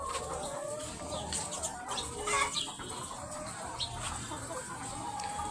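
Chickens cluck restlessly and close by, scattered soft calls and rustling over a steady background hiss, with no clear speech.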